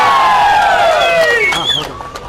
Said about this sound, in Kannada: ನನ್ನ ಪಾಲಿನ ಶ್ರೀಕೃಷ್ಣನಾದ MCS ಅವರಿಗೆ ನಿಮ್ಮ ಚಪ್ಪಾಳೆ ಮುಖಾಂತರ ಸ್ವಾಗತ.